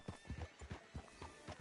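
Horse hooves clip-clop at a steady walking rhythm in a video game set in a Western town, close and clear, with a faint whinny-like tone and game music underneath.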